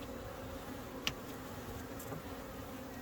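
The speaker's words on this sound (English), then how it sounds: "Can see a bee under there." Honeybees buzzing faintly around an opened hive during a colony inspection, a low steady hum with one brief louder sound near the start.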